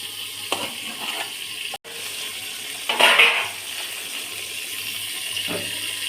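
A semiya (vermicelli) egg omelette frying in a pan, flipped over using a lid: a steady sizzle runs throughout, with a brief clatter near the midpoint and a louder, hissing burst shortly after as the omelette goes back into the pan.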